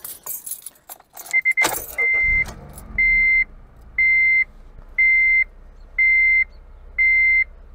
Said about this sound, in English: So let's go ahead and start our car.